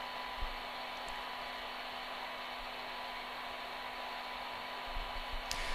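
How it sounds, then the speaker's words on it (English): A hair dryer, set on a sturdy surface to dry a rabbit's fur, blows steadily with a constant whooshing hum and faint whine, running unchanged throughout, with a couple of small knocks near the start and end. "You can set the dryer on something sturdy and just point it in your direction"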